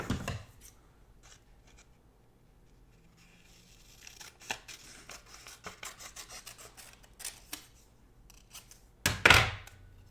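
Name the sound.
scissors cutting paper for a planner spread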